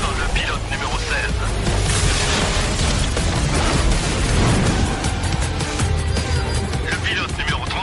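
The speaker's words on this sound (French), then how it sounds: "L'explosion du bus a été activée par le pilote numéro 16." A bus blows up in a racing video game, with loud booming blasts and crackling debris layered over roaring engine noise throughout, while a voice talks over the action.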